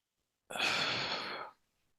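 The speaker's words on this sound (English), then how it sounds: "So take a deep breath." A single deep breath during a guided energy-healing meditation, a close, airy inhale-exhale lasting about a second with no talking around it.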